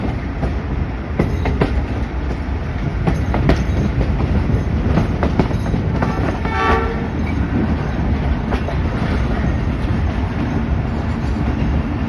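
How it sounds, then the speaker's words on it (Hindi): A train rumbles loudly along the rails close by as it approaches a railway station in Pakistan, with rhythmic clattering of wheels and occasional metallic squeals. "अप्रोच बना रहे हैं हम उगोकी रेलवे स्टेशन पे"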